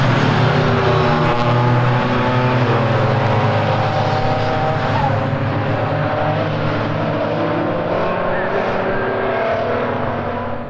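Super Saloon race cars roar around Mallory Park circuit in a CMMCS race, a dense, loud, continuous engine din with several cars overlapping and shifting pitch, steady throughout.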